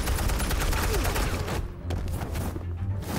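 Dense, sustained gunfire fills the whole short stretch, loud and close, with rapid overlapping shots and booming rumble underneath.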